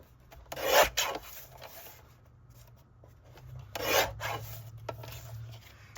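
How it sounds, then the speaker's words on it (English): A paper trimmer cutting cardstock down to card size, with two distinct rasping slides of the blade, each sharp and close, separated by quieter handling noise. "So I'm just going to trim this down to 4 by 5 1/4."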